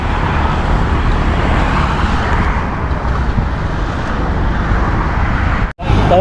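Vehicles on the Mumbai–Satara highway make a steady, dense roar of engines and tyre noise close by, never letting up, with only a momentary break near the end.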